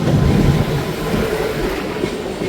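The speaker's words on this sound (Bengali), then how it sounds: "সামনে দিয়ে চলে আসছে ট্রেন নাম্বার 12042 NJP থেকে হাওড়া শতাব্দী এক্সপ্রেস" The NJP–Howrah Shatabdi Express rolls past close by, a loud, steady rumble of wheels and carriages with faint clickety-clack running through the whole passage.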